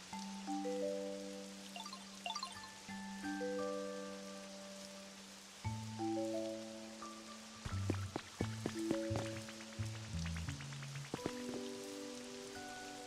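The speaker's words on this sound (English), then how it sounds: "It's been raining forever" Rain falls steadily in a Pokémon video game, a soft, continuous patter under the game's tonal music with its held notes and plucked chimes; no talking.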